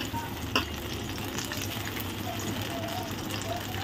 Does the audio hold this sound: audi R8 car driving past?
no